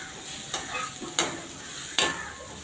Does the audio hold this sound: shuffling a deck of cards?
no